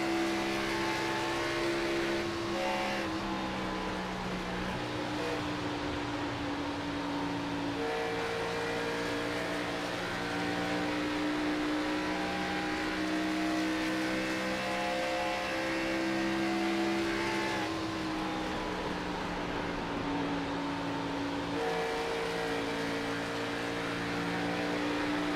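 Race car engines in the iRacing video game, Xfinity Series cars at Kansas, drone in a steady, sustained high whine, pitch sliding up and down as several cars run close together through the lap.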